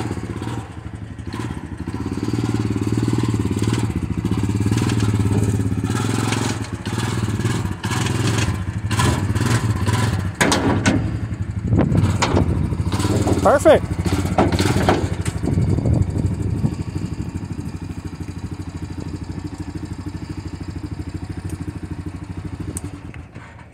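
Honda Ranger utility vehicle engine running, a steady low motor rumble with clattering and knocking bursts as it revs, close by, with a brief spoken word.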